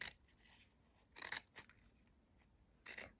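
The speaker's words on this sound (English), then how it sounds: "I just cut a strip by eye around 1 centimetre wide" Scissors snipping through a strip of ribbon about a centimetre wide, heard as a few quiet, crisp cuts: one near the start, a pair around the middle and another near the end, in a hushed room.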